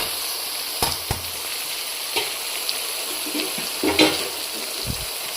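Small chuno fish with green tomato and vegetables sizzle steadily in hot oil, a close, even hiss punctuated by a few sharp clacks and taps from utensils against the pan.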